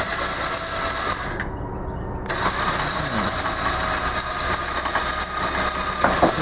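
Winch working steadily to drag a dead tractor up onto a trailer through a pulley rigged for double line pull, a continuous mechanical ratcheting grind close by, with a brief quieter lull early on.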